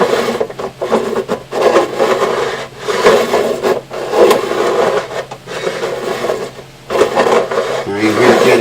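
A file rasps back and forth across the fret ends of a Martin 00028 acoustic guitar, with rough, rhythmic scraping strokes and short pauses between passes, loud and close.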